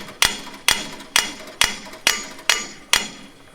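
A hammer strikes a farrier anvil fitted with a swing-out stabilizer, giving seven sharp ringing blows at an even, steady rhythm, each with a short bright decay, close and loud with no talk.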